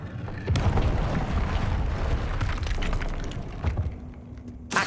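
Bombarda spell explosions in Hogwarts Legacy, a dense rumbling boom with crackling debris that swells and lingers over several seconds, followed by sharper bursts near the end.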